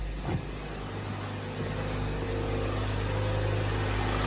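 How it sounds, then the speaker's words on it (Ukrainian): A cold Land Rover Discovery Sport with a 2.0 Ecoboost petrol engine idles steadily, a low even hum with a faint tonal whine, heard close and alone. "І ось так працює двигун. Зараз він холодний, прогріється і подивимося."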